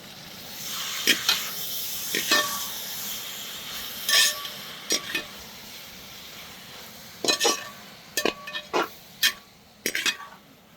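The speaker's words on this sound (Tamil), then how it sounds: "நான் வெங்காயம் தக்காளி பச்சை மிளகாய் எல்லாம் போட்டு நல்லா வதங்கி இருக்குது" Onion, tomato and green chili sauté in a pan for a Saidapet vadacurry, with a steady low sizzle broken by irregular sharp scraping and stirring strokes, clustered more densely toward the end.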